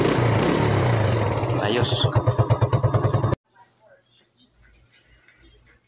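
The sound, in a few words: motorcycle engine running after valve clearance adjustment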